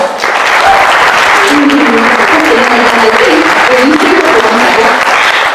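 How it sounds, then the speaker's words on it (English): Steady applause from an audience at a camp art show, loud and continuous throughout, with some faint voices mixed underneath. "Let's give them a round of applause."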